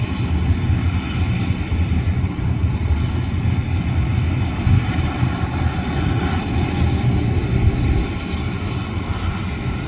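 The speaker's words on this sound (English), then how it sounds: "And engine number one is starting now as well." An airliner's gas turbine engine spins up at Canberra International Airport during pushback, a loud, steady roar and whine that fills the whole stretch without a break.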